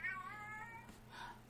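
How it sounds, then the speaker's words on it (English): A pet cat meows for food indoors at night, one drawn-out harmonic meow followed by a shorter second call, close and clear over a low steady hum. "it's that time of the night and my cat wants food"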